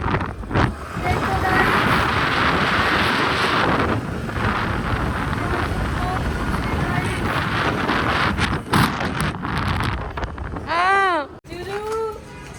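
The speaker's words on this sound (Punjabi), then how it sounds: "ਅਸੀਂ ਤਿੰਨੇ ਜਾ ਰਹੇ ਆ ਸਕੂਟਰੀ ਤੇ" Steady wind rush and engine-like rumble from three people riding a scooter, continuous and loud, with a brief voice near the end.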